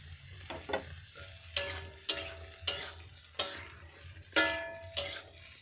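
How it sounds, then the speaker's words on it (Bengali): Chopped spring onions stir-fry in a pan under a quiet sizzle, with about eight sharp spatula scrapes and taps against the pan at a fairly even rhythm, close by and with no talking. "এবারে দিয়ে দিচ্ছি পেঁয়াজকলিগুলো এভাবে কেটে রেখেছি, সব দিয়ে দিচ্ছি। একসঙ্গে রান্না করে নেব ভালো করে।"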